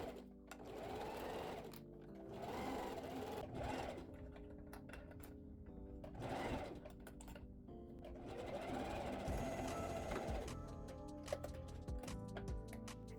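A sewing machine runs close in several bursts, stitching the side and crotch seams of toddler summer shorts with a quarter-inch seam allowance, its steady mechanical whir starting and stopping with brief pauses.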